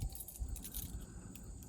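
A ring of keys jangles continuously with a bright metallic shimmer, fairly quiet and close, with no talking.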